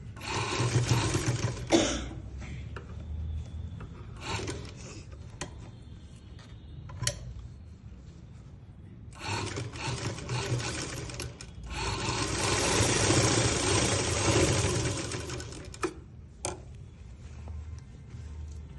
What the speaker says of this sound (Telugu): ఒకటే కుట్టు వేస్తున్నాను.